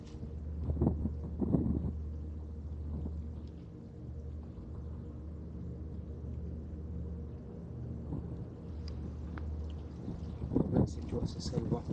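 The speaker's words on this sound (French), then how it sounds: "Tu vois, c'est ça le vent." Low rumbling wind buffeting a handheld recorder on a hill by a monks' chapel, continuous and droning for several seconds, with voices speaking briefly at the start and end.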